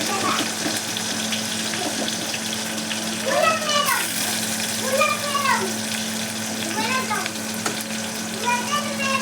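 Green chilies and onion pieces hiss and sizzle in a pan for an aloo fry, a steady frying bed with a constant hum underneath and occasional stirring swirls.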